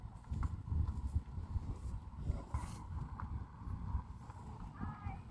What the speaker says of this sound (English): Look at that draft horse.